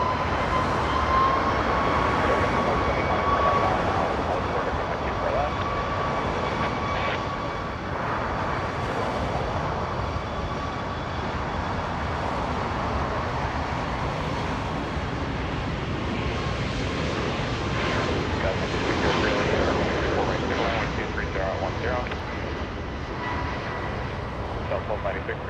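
An Aeromexico airliner bound for Mexico City taxis at Los Angeles International Airport, its steady engine whine and rumble continuous and moderately near, with someone talking over it.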